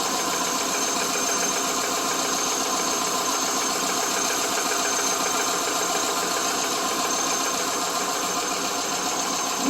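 A 2001 Subaru Legacy engine idles after being retimed, running smoothly with a steady, even mechanical hum and faint ticking, close and continuous with no voices.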